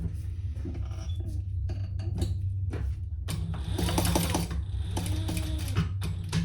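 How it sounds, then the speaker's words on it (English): A sewing machine top stitching a crossbody bag runs steadily and close by, its mechanical whir picking up into a faster, louder rhythmic stitching in the second half. "We're going to top stitch. And I always like to top stitch."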